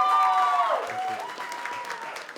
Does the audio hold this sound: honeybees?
no